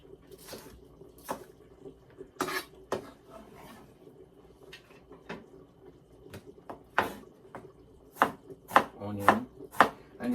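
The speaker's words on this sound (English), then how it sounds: "Scallion. You can cut them the size you want to cut them." Knife chopping scallions on a board, a series of sharp close taps at uneven pace that quicken into a rapid burst near the end.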